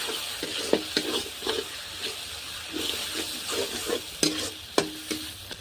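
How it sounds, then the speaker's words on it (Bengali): Spices frying with cumin-coriander powder in a pan, a steady sizzle broken by repeated scraping stirs and sharp clinks of the utensil against the pan, close and alone. "এখন আমি মশলাটা জিরে ধনিয়ার গুঁড়োটা মশলার সাথে একটু কষিয়ে নিয়ে তারপর আমি জলটা দিয়ে দেবো"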